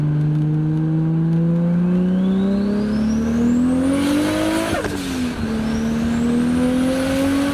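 A Toyota Supra engine in second gear from about 40 mph revs hard and climbs steadily in pitch, briefly dips as if shifting, then keeps pulling; loud, close and continuous, with no talking.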